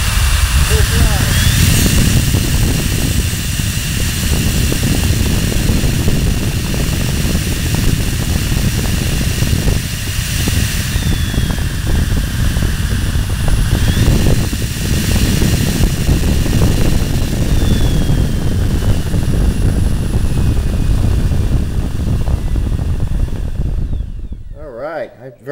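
An RC electric motor and propeller on a test bench run at full throttle, giving a loud, sustained buzzing whir with roaring air that continues steadily before cutting off abruptly at the end.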